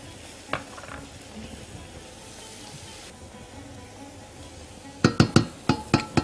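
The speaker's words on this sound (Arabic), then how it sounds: "كده بنعصج اللحمة ونديها نص البهارات" Beef sizzles steadily in a hot pan with spices for a freekeh and caraway dish, with a low continuous frying hiss and a quick run of metal spoon clinks against the pan near the end.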